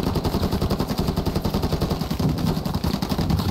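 Rapid suppressing gunfire in the military shooter Squad: rapid, evenly spaced automatic bursts, loud and close, with no talking.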